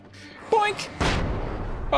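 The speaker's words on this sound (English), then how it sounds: "Oh, that's a rifle." Rifle gunfire in the video game Alan Wake: two sharp, loud shots about half a second apart, each with a booming tail, over faint game background noise.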